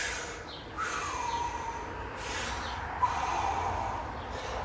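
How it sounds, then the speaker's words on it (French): Slow, breathy exhalations during an abdominal breathing exercise for back pain, heard as soft airy rushes that rise and fade about once a second over steady room hiss, close and fairly quiet. "je gonfle mon ventre, je souffle, j'expire"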